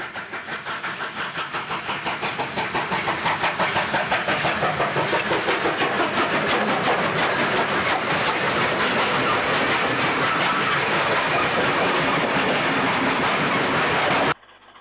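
Steam locomotive 3813 hauls the up express at Mittagong, New South Wales, a loud, steady roar of exhaust and rolling wheels with rhythmic clickety-clack that swells as it passes close by and cuts off abruptly near the end.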